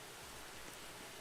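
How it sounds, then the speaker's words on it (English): Steady video-game rain hisses softly and evenly as a faint, continuous wash with no voices. "It's raining."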